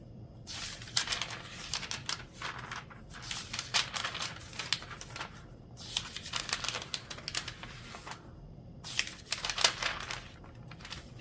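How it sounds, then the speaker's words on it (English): Thin paper crunches and crinkles close up in repeated bursts of handling, with brief pauses between, no voices. "I'm going to share the paper crunch"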